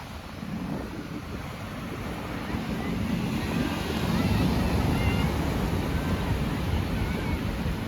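Ocean waves roll onto the fine white sand of Dinadiawan Beach, a steady broad wash of surf with wind rumble that swells slightly louder partway through.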